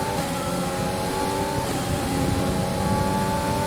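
Formula 1 race car engine in the F1 2020 video game held at full throttle, a loud, continuous high-pitched whine with steady tonal harmonics, close and unbroken through the whole stretch.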